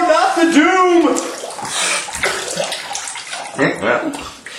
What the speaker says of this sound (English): It's the waterfall of doom!